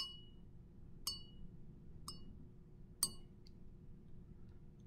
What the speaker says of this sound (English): And then with a glass rod, I'm going to gently stir this.